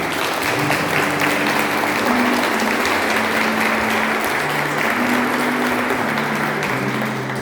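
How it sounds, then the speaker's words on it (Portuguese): Sustained audience applause for the Virgin Mary at a Catholic family prayer gathering, steady and dense throughout with a faint hum of voices or music tones beneath. "Vamos aplaudir a Virgem Maria"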